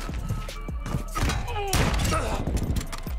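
Gunfire in a search and destroy match of a shooter video game, a crackling run of shots and thuds over busy game noise, with a voice faintly present.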